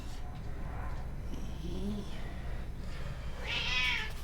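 A house cat meows several times, short, plaintive calls spaced across a few seconds, close by and clear over a quiet room, with the last meow the loudest.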